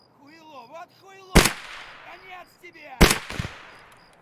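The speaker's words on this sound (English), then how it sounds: "There's a Mosin sniper out there somewhere" Two sharp, loud cracks from a Mosin sniper rifle ring out about one and a half seconds apart in Escape from Tarkov, each trailing a short echo, while someone talks between the shots.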